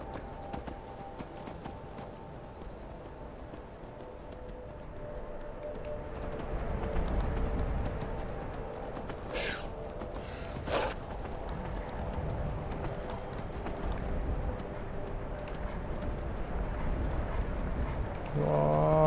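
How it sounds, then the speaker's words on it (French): Horse hooves clop steadily in the video game Skyrim, a rhythmic plodding that runs throughout, joined by low ambient game sound and a couple of brief sharper noises. "Je sais pas ce qu'il fait le cheval là"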